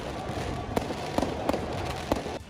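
Fireworks go off at a street celebration, with several sharp bangs at irregular intervals over a dense, noisy background crowd roar.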